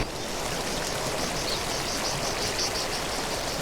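A glacial meltwater stream in the mountains rushes hard, a dense, steady broadband roar of fast-flowing water close by, continuous with no voices.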